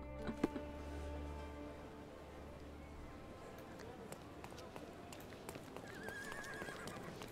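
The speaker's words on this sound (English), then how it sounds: "Hi, horsey." A horse in the Sherlock Holmes Chapter One video game clops its hooves and whinnies, faint and mixed among game sounds, with a voice speaking over it.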